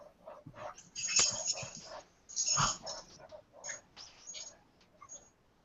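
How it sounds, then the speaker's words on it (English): A dog barks and whimpers indoors in a run of uneven bursts, some sharp yelps and some softer whines, fairly close, with no talk over it. "Sorry, that's my dog."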